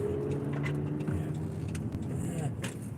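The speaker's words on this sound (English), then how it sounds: "Sounds like a car show again." Engines idle and rumble among many cars gathered at a night car show in Indianapolis, a steady close drone with a revving tone that rises and falls, while people talk nearby.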